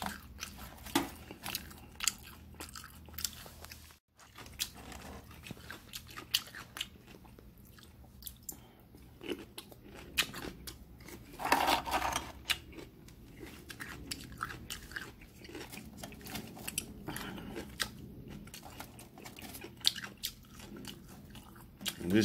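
Steak fries with ketchup are chewed up close, soft squishy bites and crunches repeating in an irregular rhythm with short breaks, quiet and intimate.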